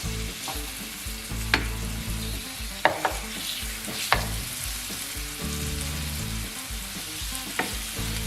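Cajun chicken frying in oil around the sides of a pan over low heat, a continuous dense sizzle with a few brief clicks and pops, close and steady throughout.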